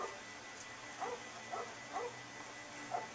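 A dog in the LEGO Pirates video game gives four short, evenly spaced whimpering yips over a quiet background hum.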